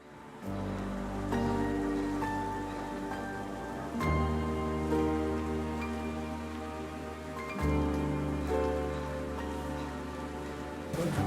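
Steady rain pattering on a surface, continuous and fairly close, layered with a low droning hum; no voices.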